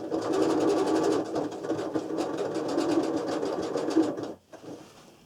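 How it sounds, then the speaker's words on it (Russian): A sewing machine runs steadily for several seconds, stitching a homemade travel bag, a dense continuous whir that falters briefly then stops near the end, close and alone without talk. "я буду шить не строчка в строчку, а, пожалуй, за строчку немножко"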